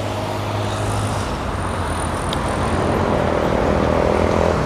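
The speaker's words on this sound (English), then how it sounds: "This is Langata Road, you guys. It's a very dangerous highway." Busy highway traffic on Langata Road in Nairobi makes a continuous roadside roar of passing vehicles, steady and fairly loud with a broad rushing hum throughout.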